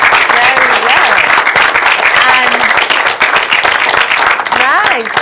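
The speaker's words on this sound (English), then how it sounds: "Let's give yourselves a round of applause" A room full of people breaks into loud sustained clapping, dense and close, with voices talking over it.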